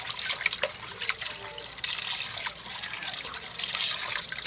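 Pancit bihon rice noodles rinsed under a running kitchen tap, a steady close splash and trickle of water with small drips, continuous without a break and no talking.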